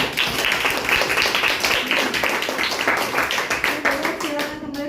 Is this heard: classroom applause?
yes